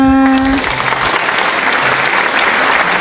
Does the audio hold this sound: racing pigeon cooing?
no